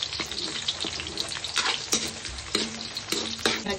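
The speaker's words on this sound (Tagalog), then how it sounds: "igisa na natin ang ating bawang. Sinod na natin ang ating sibuyas." Garlic and onion sauté in a pan for Filipino pancit, giving a busy close crackling sizzle with frequent scraping and tapping of a spatula stirring throughout.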